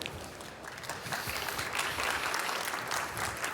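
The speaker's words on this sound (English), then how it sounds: "and again a big applause." Audience applause after a keynote at the Formnext additive manufacturing event, dense continuous clapping from a large hall, fairly distant and steady, swelling slightly toward the end.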